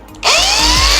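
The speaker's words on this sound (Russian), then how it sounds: "Я для этого болгарку взял." An angle grinder switches on beside a Sprinter 4x4 bumper: a sudden loud whine rises steadily in pitch as the disc spins up, close and continuous with no talking.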